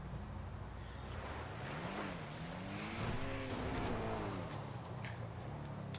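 Pegassi Toros SUV from the GTA video game driving, with a steady engine drone that rises and falls in pitch as it climbs, heard close and alone over wind-like rumble.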